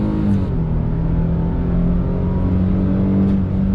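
A 2022 Nissan Frontier Pro-4X, a 3.8-liter mid-size pickup in two-wheel drive, accelerates hard with a loud, steady engine drone that climbs in pitch, heard up close and continuously with no talking.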